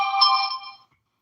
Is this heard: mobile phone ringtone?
yes